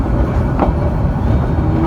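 Loud, close rumble of a moving train near Chittagong, Bangladesh, with a steady low roar and rhythmic rattling of the carriages, no voices.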